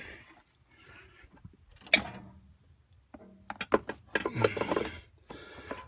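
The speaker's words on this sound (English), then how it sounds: "we're going to put the air cleaner back on for now" An air cleaner is set back onto a car engine with a few sharp metallic clanks and clatters, near and fairly loud, separated by quiet gaps, ending in a busier run of rattling metal contact.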